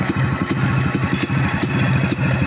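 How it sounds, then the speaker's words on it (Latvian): A motorcycle engine idles steadily without warming up, an even low throbbing pulse with faint clatter and regular ticks, close and constant with no talking. "Pat uzkarsēt nevar motoru."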